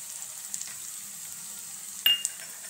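Curry leaves dropped into hot oil with onions crackle with a soft, steady sizzle, then a sharp louder spit and pop near the end, with light utensil contact; no voices.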